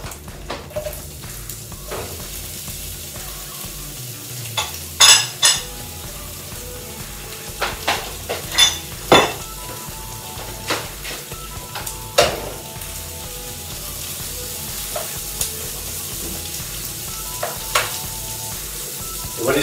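Shrimp and red onion sizzle in a pan with browned chorizo, a steady soft frying hiss close up, broken by occasional sharp clacks and scrapes of a utensil on the pan.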